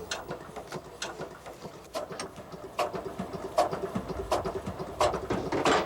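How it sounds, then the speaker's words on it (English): A diesel generator chugs at moderate level with a steady, irregular knocking rhythm and repeated mechanical clatters, growing slightly louder toward the end. "This diesel generator is a far cry from the electric service that most of us have come to expect."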